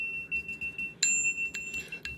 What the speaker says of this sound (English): I have this wood block with a little piece of metal on it.